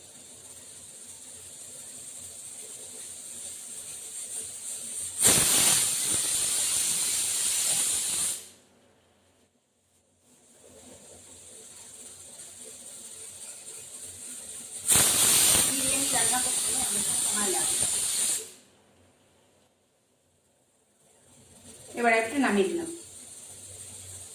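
A pressure cooker of mutton biryani vents steam in loud, close hissing bursts lasting a few seconds each, separated by quieter gaps, with a voice speaking over the last burst.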